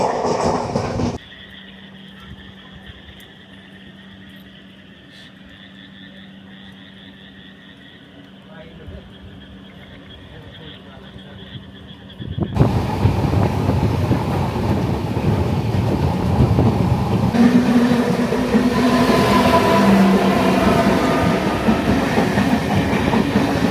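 A passenger train travels past Yeshwantpur Junction toward KSR Bangalore station. A quiet, steady hum gives way halfway through to loud, rushing rattle and clatter of carriages on the rails.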